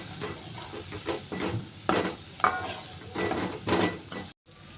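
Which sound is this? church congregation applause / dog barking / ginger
ginger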